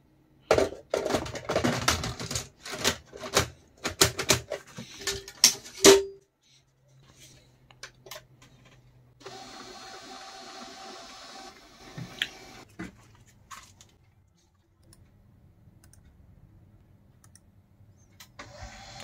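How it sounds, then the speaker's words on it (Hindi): An HP LaserJet printer with a refilled 88A toner cartridge prints a page: a burst of sharp mechanical clicks and clatter, then a steady whirring feed for a few seconds, followed by faint hums and ticks. "अब मैं एक प्रिंट आउट निकाल के आपको दिखाता हूँ कि इसका प्रिंट आउट कैसा आ रहा है"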